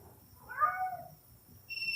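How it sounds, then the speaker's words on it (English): A cat gives a single drawn-out meow, fairly faint and close, in an otherwise quiet setting with a soft high tone in the background. "There go that cat."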